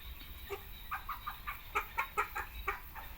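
Several chickens about six to seven months old cluck in short, uneven bursts close by, over a low steady rumble with no talking.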